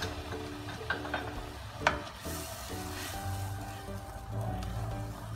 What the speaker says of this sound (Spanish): Y ahora vamos a sofreír nuestra salsa